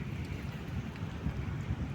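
Steady strong wind roars and buffets the microphone, a low, continuous rumble with no voices.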